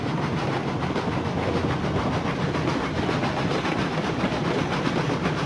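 A Cook Consolidation steam locomotive in the game Railroads Online climbs a hill. It gives off a loud, steady rumble with rhythmic clacking and chuffing that runs the whole time, with no voices.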